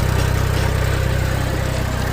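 An Eicher 380 tractor engine runs steadily at close range with a continuous low, pulsing throb and no voices, after working a rotavator in a field.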